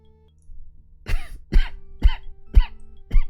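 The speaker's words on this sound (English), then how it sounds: "I got coughs." A person coughs five times in a row, loud and close, with a quiet gap before the first cough and each cough spaced about half a second apart.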